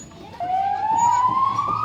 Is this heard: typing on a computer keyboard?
no